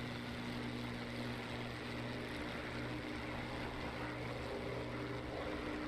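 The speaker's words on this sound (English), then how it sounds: "Love the sound of that airplane." Bf 109 propeller fighter plane in the DCS flight simulator, a steady, loud, droning piston engine hum with a constant low tone throughout, no voices.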